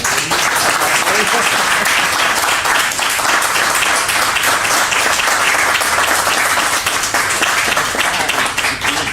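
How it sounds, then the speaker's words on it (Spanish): An audience at a talk and interview with a researcher in Guadalajara breaks into applause. The clapping is loud, dense and sustained, holding at an even level for the full nine seconds with no break. "os pido un aplauso, por favor"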